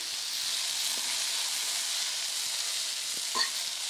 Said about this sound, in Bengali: পাশে বরবটি ভাজা হচ্ছে